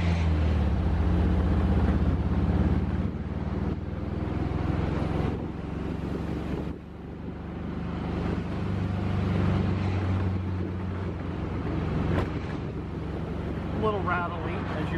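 A 1930-style Bentley replica kit car built on a VW base drives along, its engine a steady low rumble under gusting wind buffeting the microphone while someone talks over it.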